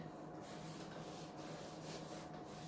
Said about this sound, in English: let me rub out this side